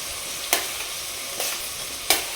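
Green chili and onion frying with mustard seeds in a pan, a soft steady sizzle with three sharp stirring scrapes spaced about a second apart.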